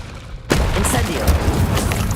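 Incendio fire spell cast in Hogwarts Legacy, bursting in abruptly after a half-second lull as a loud, close whoosh and crackling blast that sustains with thumping impacts and game effects.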